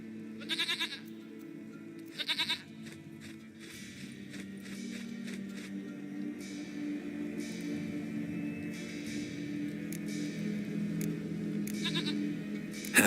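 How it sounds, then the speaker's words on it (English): A goat bleats twice in The Witcher 3, two short wavering bursts near the start over a steady ambient game hum, with faint footsteps and background sounds continuing underneath. "Goat of mine, dearest, sweetest goat."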